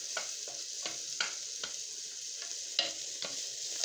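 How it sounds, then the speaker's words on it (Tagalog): Onion and garlic fry in a pan with a steady bright sizzle while a utensil stirs them in repeated scraping strokes, close and fairly quiet, with no one talking. "Ito, haluin naman natin itong ano, sibuyas bawang."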